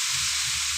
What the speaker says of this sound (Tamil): தாளிக்கிறது காட்டுறேன்.